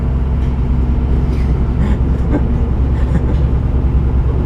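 Savannahlander train rolling between Mount Surprise and Einasleigh, a steady, loud, close rumble with constant low droning that never lets up, heard from on board.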